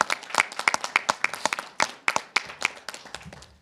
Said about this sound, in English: Round of applause here for everyone.